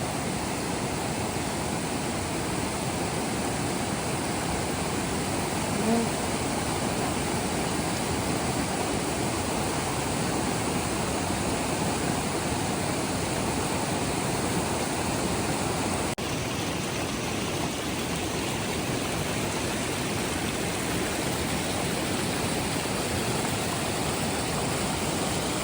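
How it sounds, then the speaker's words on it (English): Strong mountain river swollen after rain on the Tour du Mont Blanc hiking route, a loud continuous roar of rushing water close by with no voices. "Another river crossing, but because of the rain now the water is very strong."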